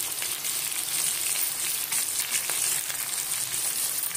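Shallots and curry leaves fry in oil with a continuous bright, crackling sizzle, close and even throughout with no talking.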